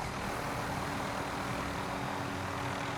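Airplane engine in Call of Duty Warzone on the Verdansk 1984 map, a steady, loud broadband roar with a constant low drone that holds unchanged throughout, with no voices.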